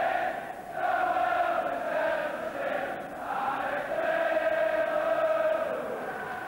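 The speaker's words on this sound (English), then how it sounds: "Big and noisy crowd" Big, noisy football crowd at Liverpool v Watford, a steady roar of thousands filling the stadium with swelling chants and murmurs, continuous and distant-sounding throughout.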